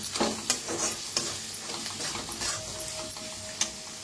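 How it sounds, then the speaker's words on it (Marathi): Cluster beans (gavar) pan-roasting with coriander powder, a steady close sizzle of frying under regular scraping stirs of a spoon against the pan, with no voices. "आता याला छान भाजून घेऊया। मस्त असं भाजायचं बघा।"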